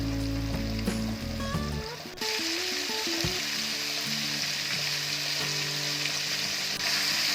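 Zinger chicken pieces deep frying in hot oil, a steady loud sizzle and bubbling hiss, with some clinks and stirring sounds early on and no talking.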